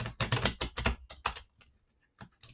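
Tarot cards shuffled by hand, a quick run of crisp papery riffles and taps in the first second and a half, then a few softer scattered flicks after a brief pause, close and alone.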